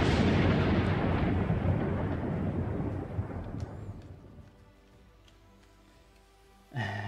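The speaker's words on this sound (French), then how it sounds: "il y a un petit peu de tonnerre dans le coin" Thunder rumbles nearby in a long, loud roll that slowly fades over several seconds, followed by a quiet lull and then a sudden fresh burst of rumbling at the end.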